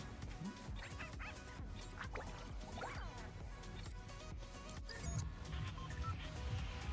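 A video game dog barks and yips in short bursts, mixed into a dense bed of game music, effects and crashes that runs the whole time, the barks moderately clear but never alone.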